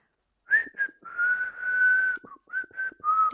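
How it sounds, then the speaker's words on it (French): A person whistling a short melodic phrase alone, a few clear sustained notes broken into separate bursts, close and fairly loud. "Je siffle."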